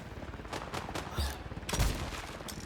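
Gunfire in the first-person shooter Phantom Fury rattles in rapid bursts with a couple of heavier booming shots, dense and fairly loud over a steady game backdrop.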